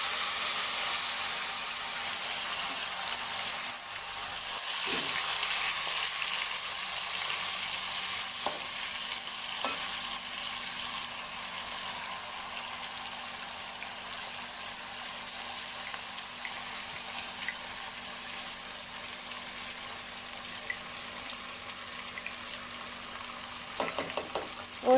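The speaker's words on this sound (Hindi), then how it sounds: "और जितनी देर में ये चिकन हमारा भुना जाएगा" Chicken sizzling steadily in a pan over low heat for smoked chicken, a continuous broadband frying hiss with occasional faint clinks, no talking.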